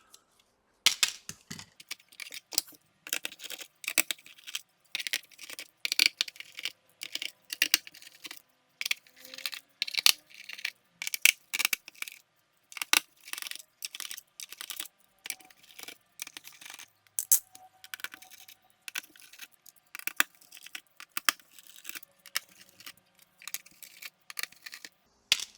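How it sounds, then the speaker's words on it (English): Screws being removed from the underside of a Dell Inspiron N7010 laptop, with repeated sharp metallic clicks and scrapes of a screwdriver and small screws in irregular bursts throughout, close and fairly quiet. "So let's remove some screws."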